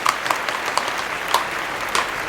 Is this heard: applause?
yes